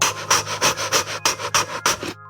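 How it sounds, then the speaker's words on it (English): A fast, forceful breath pushed out through a rounded mouth as if blowing out a candle, repeated about eight times in a quick, steady rhythm, each breathy whoosh close and loud over a faint low hum. "This is called the anger breath because it brings more oxygen to your mind."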